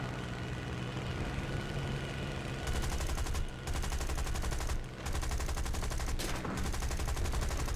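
War Thunder aircraft taking gunfire hits: steady engine drone, then from about a third in a loud, sustained rattle of rapid impacts and gunfire, broken by brief gaps.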